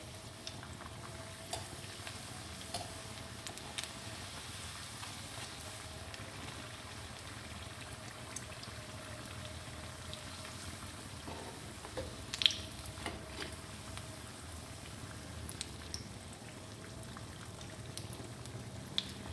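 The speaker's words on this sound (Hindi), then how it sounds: "रोल हमारे बड़े अच्छे से फ्राई हो रहे हैं।" Mutton spring rolls frying in hot oil give a steady soft bubbling sizzle with occasional small pops and clicks throughout.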